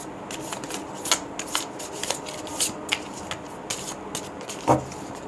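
Tarot cards being shuffled by hand, a soft riffling and rustling with repeated short card slaps and flicks in an uneven rhythm, close and fairly quiet, with no talk.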